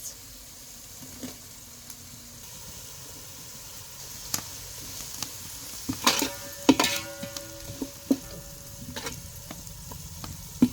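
Spring onion greens frying with turmeric and chilli powder, a soft continuous sizzle broken by scattered pops and spoon clinks against the pan, growing busier midway.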